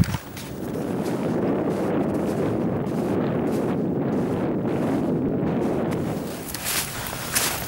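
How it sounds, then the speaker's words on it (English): Wind gusts over a snowy mountain ridge on Stob Binnein, buffeting the microphone in a steady low roar with brief lulls near the end, close and fairly loud with no speech. "The wind's a bit more keen than I was expecting"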